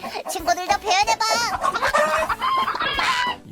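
A voice imitates a clucking chicken with rapid, bouncy bursts of cluck-like calls that rise and fall, loud and close, for several seconds.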